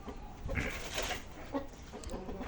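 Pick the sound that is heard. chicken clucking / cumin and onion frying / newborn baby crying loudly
chicken clucking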